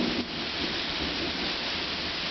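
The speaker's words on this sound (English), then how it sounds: "and we have a lot of thunder." Heavy rain in a Charlotte rainstorm hisses steadily as a dense, constant roar, with a low rumble of thunder underneath.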